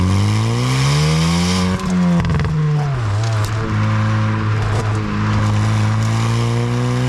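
A 2023 Hyundai i20N's engine roars loudly and close as it accelerates, its pitch climbing through the revs, dipping briefly at a gear change, then rising again, with no talking over it.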